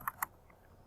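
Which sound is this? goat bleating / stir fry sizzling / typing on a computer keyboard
typing on a computer keyboard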